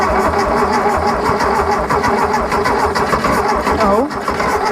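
A 1974 VW Thing, abandoned and barely intact, cranking over on choke with extra fuel: a loud, steady churning engine drone runs throughout, with a person talking over it near the end.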